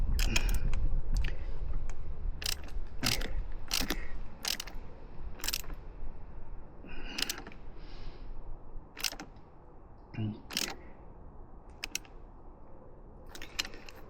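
Clamp bolts on the aluminium handguard brackets of an Aprilia Tuareg 660 motorcycle being tightened, heard as a series of sharp, close ratchet-like clicks and ticks in short irregular bursts with quiet pauses between them.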